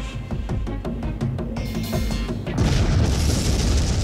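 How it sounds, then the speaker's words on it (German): Hydrogen explosion blowing apart the outer reactor building at Fukushima's Unit 3: a continuous deep, rumbling roar with no clear single bang, growing louder and harsher partway through, with no voices. "Die Explosion hat das äußere Gebäude weggerissen."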